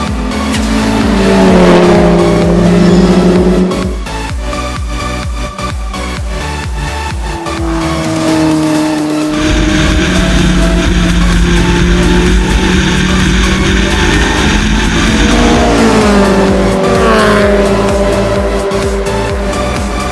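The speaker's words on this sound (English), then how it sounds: "Mazda MX5 handles it extremely well on track and is very forgiving." A Mazda MX5 race car at speed on the Lakeside track during the 2016 Wellpro MX5 Challenge, loud close engine revving up and down through gear changes, with tire noise, no talk.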